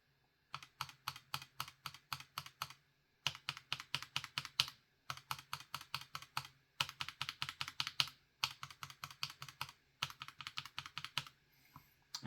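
Typing on a keyboard fitted with lubed and filmed Gateron G Pro 3.0 switches, close, steady runs of rapid clacking keystrokes in six bursts of several seconds each, with short pauses between them.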